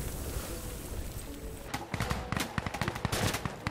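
Game gunfire from Insurgency: Sandstorm erupts after a quieter stretch, a rapid run of sharp, loud shots in uneven bursts, close by and dense through the final two seconds.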